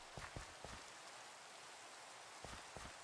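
Steady rain falls in the Minecraft video game, a soft continuous wash of noise with a few scattered louder taps, with no voices over it.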